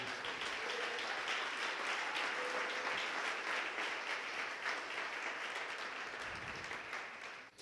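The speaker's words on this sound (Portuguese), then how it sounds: "Você pode aplaudir o Senhor?" Applause from a church congregation, a dense, sustained wash of many hands clapping at moderate distance, continuing steadily before tapering slightly near the end.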